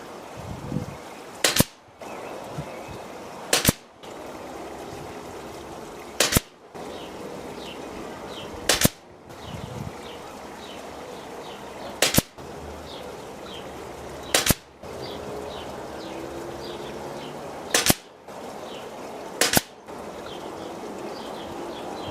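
Sharp airgun shots fired one at a time at targets, eight or nine evenly spaced cracks over a steady outdoor background with birds cooing and calling faintly between them.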